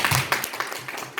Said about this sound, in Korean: 다 같이 한번 박수